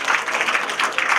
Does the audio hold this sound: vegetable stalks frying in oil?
no